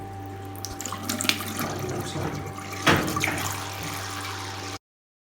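Hot water running steadily from a household tap into a sink after plumbing work on a narrowed pipe, a close continuous rushing stream with a brief louder splash midway before stopping abruptly.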